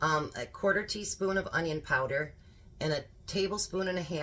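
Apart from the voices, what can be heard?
No distinct noise like a dog, phone or traffic.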